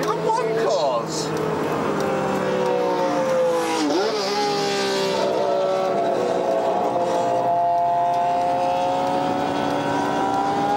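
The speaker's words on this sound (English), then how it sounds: "I've ever been on a track in a Mini against Formula One cars." A Mini racing on a track among Formula One cars, BMWs and Porsches: engine drone rises and falls as the car revs through gears, steady and close, with someone talking loudly over it throughout.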